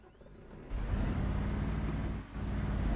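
Scania truck in the driving game Euro Truck Simulator 2 gives a sharp air brake hiss, then a loud diesel engine rumble rises and holds, dips briefly and picks up again.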